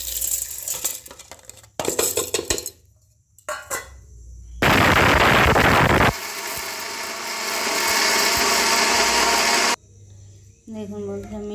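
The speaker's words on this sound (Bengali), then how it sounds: "আর এখানে দেখুন বিরি কলাইগুলি মিক্সিতে বেটে নেব।" An electric mixer grinder grinds soaked biri kalai (urad dal) for pitha batter, running in loud harsh bursts separated by pauses and rattling clatter.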